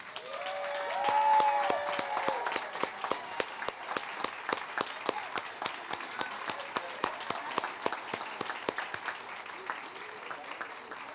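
Audience applause for elementary school award winners at a school board meeting, a moderate crowd clapping steadily with distinct individual claps, while a few voices and a faint tone sound briefly near the start.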